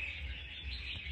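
A wild-trapped red-whiskered bulbul chirps in a quick run of soft, bright notes, fairly faint over a low background rumble.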